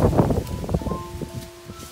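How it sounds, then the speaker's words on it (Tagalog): Strong wind gusts through an autumn forest in the UK, rustling leaves in uneven, close bursts while faint steady tones hum underneath. "Lakas ng hangin."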